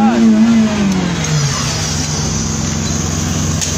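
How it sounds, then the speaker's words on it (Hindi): A Suzuki Cultus with an M13 engine revs nearby as the accelerator is pressed, its steady mid-pitched engine drone rising and holding while someone speaks over it at the start. "दे एक्सीलेटर, एक्सीलेटर दे यार।"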